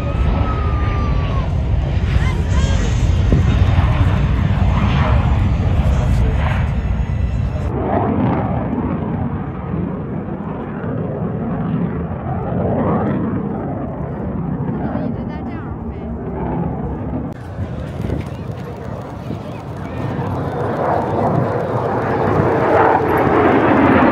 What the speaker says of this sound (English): It's one of the busiest airplanes in the U.S.